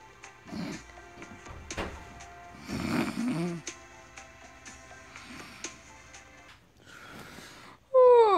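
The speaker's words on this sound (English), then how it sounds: "Stop snoring. I can't sleep." A person snoring in bed at night, with several rough, uneven snore bursts spaced a second or so apart, close and fairly quiet. A brighter, louder rising tone cuts in at the very end.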